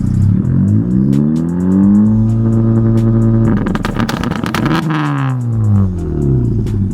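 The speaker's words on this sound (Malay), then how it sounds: "Ni contoh anti-lag lah, yang kelebihan dekat Hondata lah" A tuned Honda Civic Type R FL5 with a Hondata remap revs up and down loudly, anti-lag producing rapid popping and crackling bursts on the throttle lift, up close and alone.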